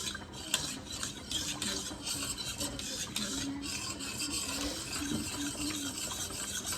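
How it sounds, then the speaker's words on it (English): A spoon stirs clam chowder vegetables in a pot, giving a continuous close scraping and swishing with light clinks against the pot and no talking. "I'm just going to keep stirring this until the vegetables are done."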